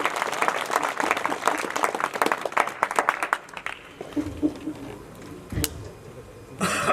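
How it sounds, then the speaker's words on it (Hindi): An audience at a heroic-verse poetry recital breaks into loud, dense applause for several seconds, then it thins out into scattered claps and fades. "एक बार जोरदार तालियां बजाइए उन महानुभावों को।"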